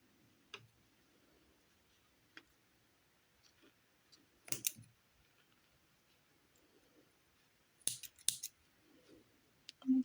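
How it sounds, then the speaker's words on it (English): Scissors snipping off white yarn pieces while crocheting a candy corn, a few sparse, close, quiet snips and clicks scattered over a near-silent background, with no talking. "We'll snip these white pieces off."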